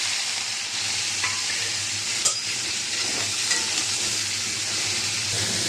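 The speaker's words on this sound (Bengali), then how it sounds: "দেখতে পাচ্ছেন চিংড়ি মাছটা হালকা আমি সাঁতলে নিচ্ছি" Prawns frying lightly in hot oil in a pan: a steady, close hiss of sizzling carries throughout with occasional soft stirring clicks and pops, and no voices.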